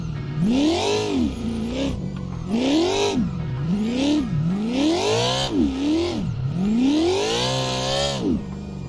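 A car engine in the racing game Assetto Corsa revs hard and repeatedly during a drift, pitch sweeping up and down in steady loud surges with a whirring edge and faint tire noise, no talk.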